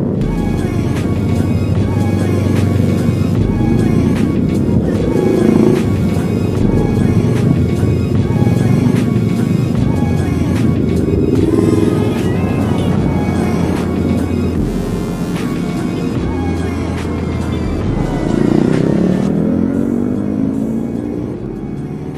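Engines rumble and rev continuously on a group motorcycle tour on the road to Sarangan, Magetan, loud and close, rising in bursts of acceleration throughout with wind noise.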